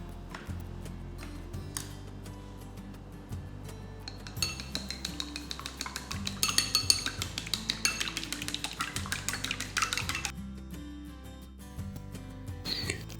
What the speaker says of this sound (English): beat up 2 eggs